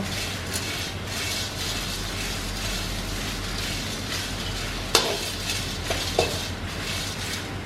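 Dried chillies are dry-roasted in a pan with constant stirring, giving a steady close scraping rustle and light sizzle throughout, broken by a few sharp clinks of utensil on metal near the end.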